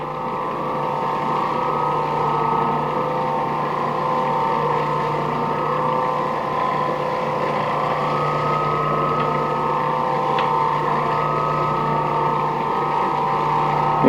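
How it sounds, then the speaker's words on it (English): A floor buffer machine spreads wax over an unwaxed floor, running as a loud, steady motor hum with a constant whirring drone throughout and no speech. "you don't take a floor that's not been waxed and try to buff the wax in like this"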